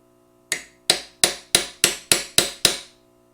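Eight sharp metallic hammer strikes on a chisel, knocking out a rubber boot on a 2013 Chevy Tahoe front suspension, land in a steady, evenly spaced rhythm. The blows are close and loud, with short ringing decays and no talk.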